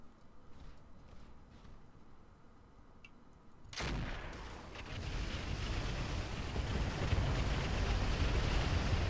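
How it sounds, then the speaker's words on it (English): A thermobaric explosion in the mech combat game Roguetech bursts in suddenly after a quiet stretch, then a loud, dense roar of blast noise carries on steadily to the end with no talk over it. "Thermobaric explosion."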